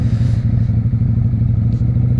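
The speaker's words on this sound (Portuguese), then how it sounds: "pra gente dar mais uma acelerada aqui na 600" Honda Shadow VLX 600 motorcycle engine revving, a steady loud low throbbing rumble held close for a couple of seconds with no speech.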